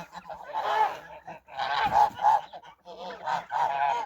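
Geese honking in a farmyard as a young gander starts a fight: repeated loud, close honks in about four bursts with short gaps between them, no talk.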